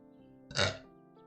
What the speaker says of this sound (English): Don't burp, that's disgusting.